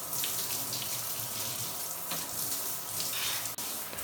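Tap water runs steadily over plastic Amstrad CPC 6128 computer case parts being rinsed of soap in a sink, a close, continuous splashing hiss with slight variations as the parts shift under the stream.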